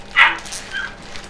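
Puppies give a sharp yip or short bark near the start, followed by softer whimpering yelps, all close by and fairly loud, with no talking.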